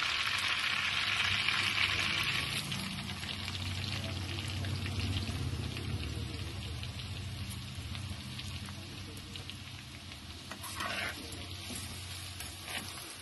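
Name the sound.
onion pieces frying in oil and butter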